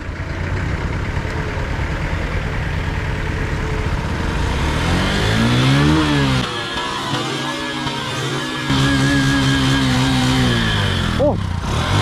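Motorcycle engine revving and idling as it rides through floodwater in Valenzuela, a steady loud drone with rising and falling pitch sweeps, one brief dip in level midway and a sharp sound near the end.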